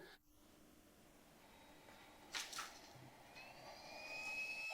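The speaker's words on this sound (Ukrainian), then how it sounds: "Слухайте, як він працює. Вентилятор равлик." A centrifugal snail-type blower fan, an air blower for a smoke generator, runs steadily with a soft, airy whooshing hum and a brief swell of rushing air midway.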